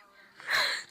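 A single short sneeze bursts out near the end of a quiet moment, sharp and breathy, with a faint inhale before it.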